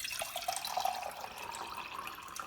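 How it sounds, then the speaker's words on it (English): Water poured from a graduated measuring jug, marked every 50 millilitres, into a coffee mug, roughly 400 millilitres in all. A steady, close splashing trickle runs throughout with no talk. "So, I'll measure out a little bit of water here."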